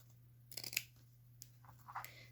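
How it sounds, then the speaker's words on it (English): Scissors snipping a piece of elastic for a dog hunting vest, two or three quick, faint close cuts in a quiet room with a steady low hum underneath. "So then I'll just cut the piece of elastic the length that I need."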